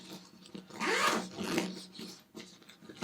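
A zipper on a pedalboard carrying bag is pulled open close up, with a long raspy drag in the middle and shorter rubbing and tugging sounds around it.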